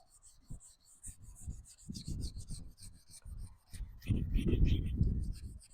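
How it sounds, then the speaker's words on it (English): A yellowed, cloudy Mercedes headlight lens is sanded by hand, giving quiet irregular rasping strokes in short bursts with brief pauses, faint and close, with no talking. "you have to sand through all this yellow crap first"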